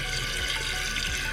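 Steady rush of water from a replacement Fluidmaster 400 toilet fill valve pouring down into the tank's overflow pipe, a continuous close splashing trickle with no talk.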